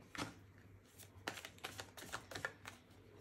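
Cards riffled and dealt one at a time during a tarot-style guidance reading, giving a string of soft papery flicks and slaps with brief gaps, fairly close and quiet.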